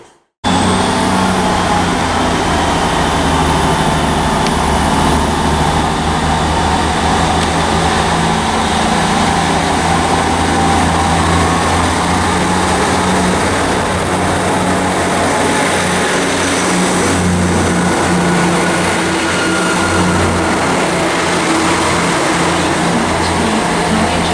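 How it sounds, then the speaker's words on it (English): At Bristol Parkway, a Great Western Railway class 158 diesel unit pulls away with a loud, steady engine drone close by, holding a continuous throb with a high whine running through it for the whole stretch. "departing there's the 1423 Great Western Railway service to Weymouth from Great Malvern"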